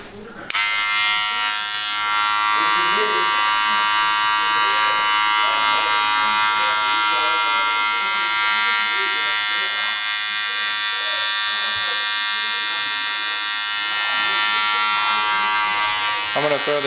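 Electric hair clippers tapering the back of a boy's haircut, a steady close high-pitched buzz running continuously with slight shifts as the blade moves, while someone talks over it.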